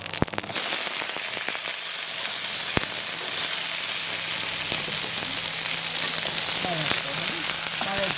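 Mustard seeds and vilumbili vegetable frying in oil for a Jaffna-style pickle, a steady dense sizzle with scattered popping crackles throughout, close and continuous with no talk.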